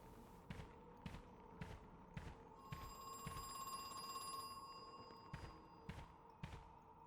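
An old telephone rings in the Halloween-themed horror video game Crow Country, a faint electronic trill sounding once mid-clip amid a string of regular soft thuds like footsteps.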